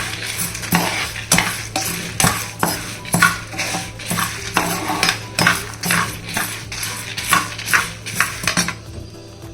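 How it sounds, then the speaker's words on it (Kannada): Roasted poppy seeds stirred in a hot pan, rhythmic metal spatula scrapes and clinks against the pan over a faint sizzle and low hum, close and steady with no voices. "ಗಸಗಸೆ ಸೇರಿಸ್ಕೊಂಡು ಸುಮ್ಮನೆ ಒಂದು 10 ಸೆಕೆಂಡ್ ಕೈ ಆಡಿಸಿ ಸ್ಟವ್ ಆಫ್ ಮಾಡ್ಕೋಬೇಕು"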